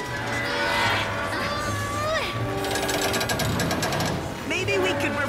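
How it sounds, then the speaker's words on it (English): A big sewage grinder pump in a cartoon churns with steady mechanical grinding and ratcheting clatter, while overlapping voices and tonal effects run on top throughout. "That's one big grinder pump."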